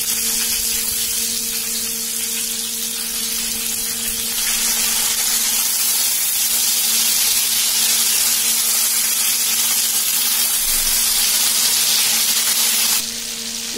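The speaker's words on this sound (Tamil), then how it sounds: "இப்ப நல்லா ரெண்டு பக்கமும் ஃப்ரை ஆயிடுச்சு" Ora fish fries Arabian style in hot oil in a pan, giving a loud, steady, close sizzle that runs unbroken for the whole stretch with no talk.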